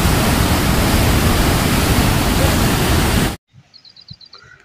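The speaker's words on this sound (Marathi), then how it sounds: "पाणी शहराकडे उलट चाललेलं आहे" Loud, steady roar of floodwater rushing from a burst canal during heavy rain in Ghansawangi, filling the first three seconds before cutting abruptly to near silence with faint scattered sounds.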